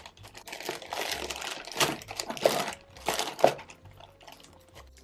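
A plastic package of glittery autumn enamel pins is cut and pulled open up close, giving bursts of crinkling and crackling plastic with small clicks and snips, and no talking.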